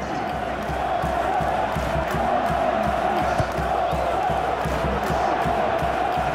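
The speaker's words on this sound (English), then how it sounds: "at least the crowd are appreciative of his efforts" Steady crowd murmur and low roar from a PES2018 football match between Belgium and Greece, continuous and fairly loud across the whole stretch, with no distinct cheers standing out.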